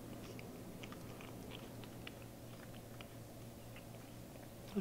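Soft, irregular crunching of honeycomb chocolate being chewed close up, quiet against a low steady hum.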